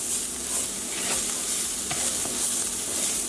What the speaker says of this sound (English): Add your garlic. And we're going to just let this cook for a bit, maybe 30 seconds or so,